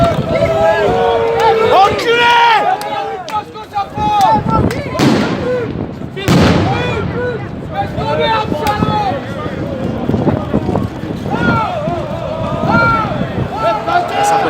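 Tear gas launchers firing during a street protest on the Champs-Élysées by the Arc de Triomphe, several loud bangs and pops amid crowd noise and shouting, with people talking throughout.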